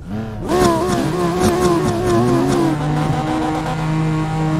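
Several cars revving their exhausts in the racing game Assetto Corsa traffic mode, overlapping engine notes rising and falling loudly and close, with sustained high revs after a sudden start.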